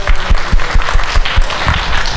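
Loud, dense applause from a live audience at a Q&A with Disney legends, many hands clapping at once in a full, continuous roar with a few individual claps standing out near the front.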